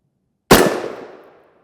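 A single rifle shot strikes a polyethylene NIJ Level III armor plate, one sharp loud crack that rings out and decays over about a second in open air, with no voices.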